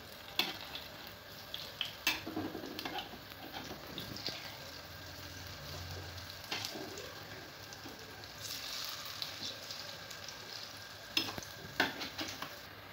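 Palm fruit fritters, taler bora, fry in hot oil with a soft continuous crackle, broken by scattered clinks and scrapes of a utensil turning them.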